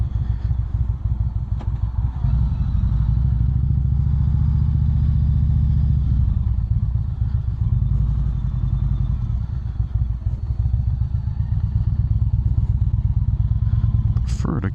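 A motorcycle on a Mean City Cycles double memory foam seat rolls into a gas station low on fuel, its engine a loud, steady, close rumble with no throttle bursts.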